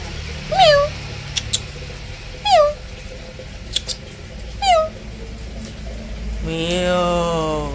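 A pet cat meows three times, clear and close, with even pauses between calls, over faint background noise that swells toward the end.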